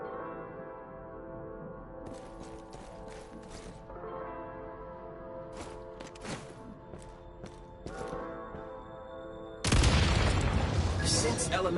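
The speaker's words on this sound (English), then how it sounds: "Shoot the explosives to detonate them and clear the path." Explosive blasts and gunfire fill a video game battle. Several sharp cracks and booms stand out over a musical score, and a loud, dense burst of explosion noise lands near the end.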